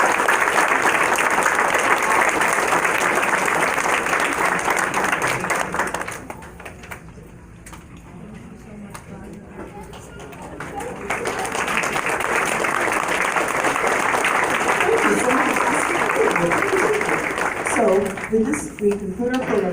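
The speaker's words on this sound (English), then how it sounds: "Let's give them a big round of applause." An audience at a school concert claps loudly and steadily. The clapping dips to scattered claps halfway through, then swells again, with some voices mixed in.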